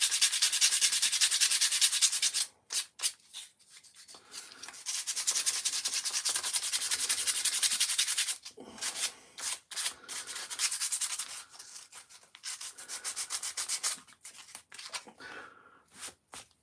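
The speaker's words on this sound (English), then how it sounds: "now what I need to do is sand off a little bit" Hand sanding on a woodcarving: close, raspy back-and-forth strokes in long steady bursts, broken by short pauses and quicker rubs, with no talking.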